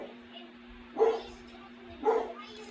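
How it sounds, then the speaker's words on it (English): A dog barks somewhere near an outdoor fight venue, two separate woofs about a second apart, fairly loud over a steady hum and background noise. "You hear that dog has been barking ever since we got to this fight"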